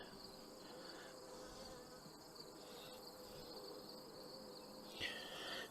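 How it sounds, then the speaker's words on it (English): A steady, low hum of many honeybees from a hived swarm buzzing continuously at a distance, with a faint brief rise near the end. "Very chill bees."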